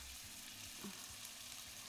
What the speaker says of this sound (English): you get them big sizzle noises because the microphone's right here